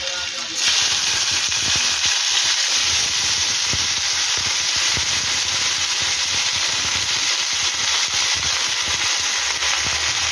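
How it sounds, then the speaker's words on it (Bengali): Chopped potato, eggplant, pointed gourd and ridge gourd frying in a pan with dried chilli paste for a mixed vegetable dish. A loud, constant sizzle kicks in after a brief moment and continues without talking. "আর এখানে দেখো আলু, বেগুন, পটল, ঝিঙা সব কেটে ধুয়ে রেখেছি, এটা দিয়ে দেবো।"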